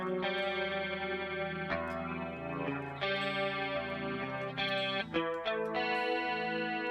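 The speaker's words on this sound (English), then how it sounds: "we're going to add modulation to it, and we're just going to do stereo chorus" Electric guitar playing a tone with stereo chorus modulation, sustained chords and single notes shimmering over several seconds, clean and fairly loud with no talking.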